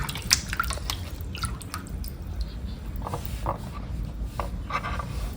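Three tomatoes are washed in water, giving close, irregular drips and small splashes with light handling knocks and no speech.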